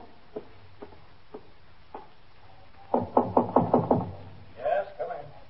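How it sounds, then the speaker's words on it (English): Knocks on an office door in a police precinct: four light, spaced taps followed by a quicker run of six firmer knocks, then a brief voice. "Just knock on the door."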